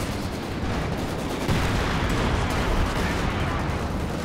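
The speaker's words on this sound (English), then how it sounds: "Shells should start dropping quite rapidly soon" In the Company of Heroes 2 strategy game, an artillery barrage rumbles continuously, with dense booming shell impacts and crackling fire that grow heavier midway.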